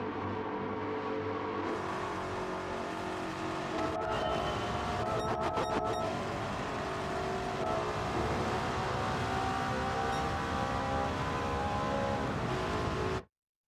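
Race car engine running steadily throughout in Gran Turismo 7 daily online racing, with a continuous loud drone, shifting engine pitch through a chicane and braking zone, and a brief burst of rattling effects midway before cutting off abruptly.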